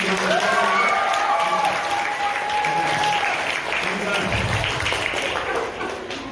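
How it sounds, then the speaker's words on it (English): Audience at a live, spooky-themed children's book event applauds Mr. Dan Smith: a steady, full round of clapping with crowd voices and a few whistled or cheering tones riding over it, lasting several seconds. "a round of applause for Mr. Dan Smith"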